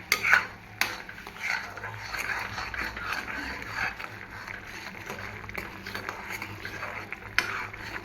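Sweet sabudana (tapioca pearl) mixture with sugar is stirred in a pot, a spoon scraping and clinking against the metal in irregular strokes, with a few sharper knocks, close and moderately loud.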